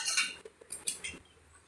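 Rice flour dough being stirred with desi ghee in a pan on the stove, a spoon scraping and clinking against the metal in a few short, close strokes.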